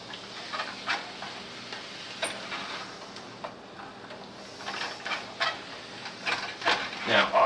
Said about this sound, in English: So I'm gonna mix this real well.